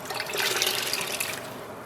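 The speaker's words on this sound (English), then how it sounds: "I'm gonna go rinse out the container." Water runs steadily from a tap while a container is rinsed during wool yarn dyeing, a close, continuous splashing rush with no talking.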